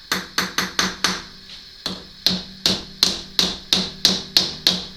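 A hammer taps against a rotary table chuck to nudge it into alignment, about a dozen sharp metallic knocks in quick bursts with a short pause midway, close and ringing briefly after each strike.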